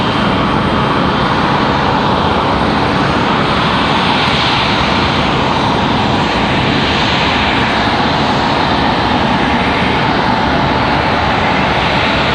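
Loud, continuous roar of an airplane at Raleigh Durham International Airport, a broad engine rumble that swells and holds steady throughout without voices.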